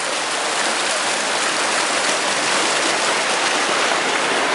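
A waterfall pouring into a pool along the Harding Truck Trail makes a loud, dense, unbroken rush of falling water that fills the whole stretch, close and steady with no voices.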